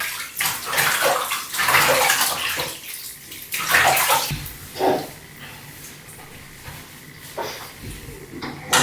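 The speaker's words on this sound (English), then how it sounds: "So I'm going to go ahead and give her a quick bath while Jalea is still sleeping." Water splashing and sloshing in a small tub as a baby is bathed, with repeated bursts of movement through the water and brief quiet pauses, close by.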